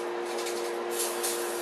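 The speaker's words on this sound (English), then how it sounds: "I'm going to spray my pan, my frying pan, which is off camera" Cooking spray hissing from a can onto a frying pan, a steady close breathy spray lasting under two seconds with no one talking.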